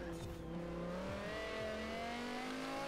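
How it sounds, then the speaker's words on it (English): A high-revving V10 supercar engine in Forza Horizon 4 whines upward through gear shifts, steady and prominent with no talking. "That engine sound, it's a nice engine sound, it's because it's a V10."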